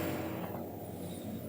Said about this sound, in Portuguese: Esperando passar o carro que tá fazendo um barulho danado